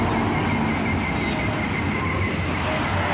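A Nugraha Utama bus rolls past on a road, a steady broadband engine and road rumble at a constant, fairly loud level, with no horn blast standing out.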